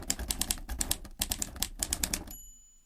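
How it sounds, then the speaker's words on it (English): Typewriter sound effect: rapid bursts of sharp mechanical key clacks in quick uneven runs with brief pauses, ending in a clear ringing bell-like ding as the typing stops. "So that was either just a really awkward pause or the sound of a typewriter."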